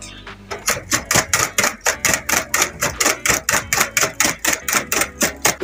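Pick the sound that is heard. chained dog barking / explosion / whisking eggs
whisking eggs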